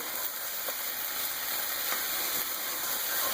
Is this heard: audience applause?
no